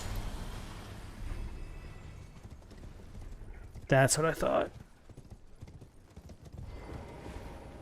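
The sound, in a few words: horse hooves galloping in the video game Elden Ring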